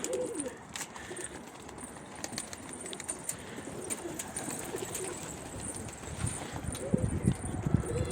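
Pigeons coo softly amid a busy outdoor backdrop, with a burst of wing flapping and fluttering near the end.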